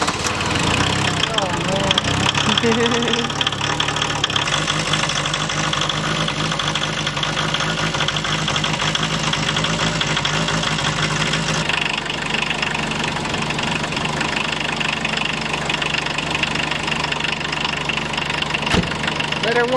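A 1980 VW Rabbit MK1 engine catches on a cold start and settles into a steady, slightly knocking idle close by, running continuously while someone speaks briefly over it.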